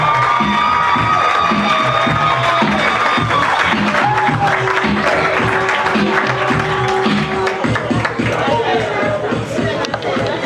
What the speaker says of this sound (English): You can start clapping.